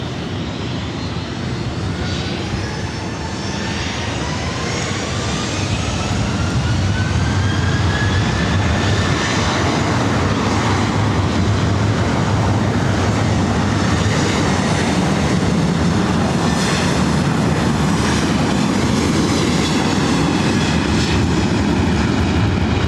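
A jet airliner roars down runway 24 right at LAX on takeoff, a loud, steady thunderous rumble with a slowly rising whine that builds and sustains for over twenty seconds.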